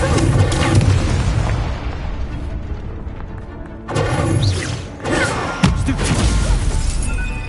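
The Incendio fire spell is cast repeatedly in Hogwarts Legacy, loud roaring blasts and crackling booms that come in several bursts with short gaps between them.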